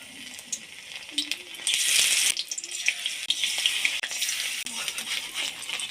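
Battered oyster mushroom pieces frying in hot oil give a steady high crackling sizzle that swells for a moment midway, with occasional soft clatters and no talking.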